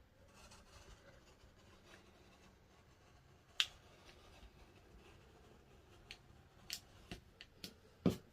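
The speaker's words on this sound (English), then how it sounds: "Now I'm going to take a really funky, wonky inside cut right here." Fabric for a double-sided table runner being cut with a rotary cutter or scissors, faint quiet slicing and rubbing with a few sharp clicks near the end, close and alone.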